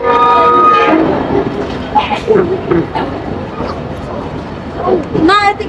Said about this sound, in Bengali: এই হচ্ছে পঁয়ষট্টি সিজের লোকোমোটিভ এটি আজকে ট্রেনে নিয়ে আসলো এই মংলা পর্যন্ত